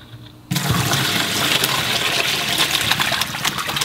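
Tap water gushing into a kitchen sink to rinse sliced sweet potatoes for a fermented drink, a sudden steady rushing stream that holds loud and close for several seconds.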